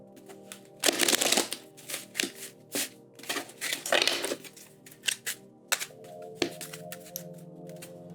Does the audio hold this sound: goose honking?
no